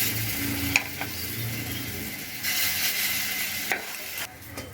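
Fritters (bora) frying in hot oil give off a close, continuous sizzle, with a few sharp clinks and stirring knocks and a louder stretch of bubbling partway through.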